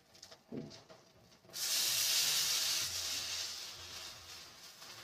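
Suva (dill) greens dropped into a hot pan where tomatoes have been frying, setting off a sudden loud hiss that holds steady and then settles into a continuous softer sizzle.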